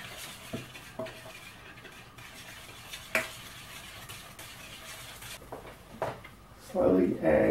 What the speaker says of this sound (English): In a separate bowl, mix the egg, milk, and vegetable oil.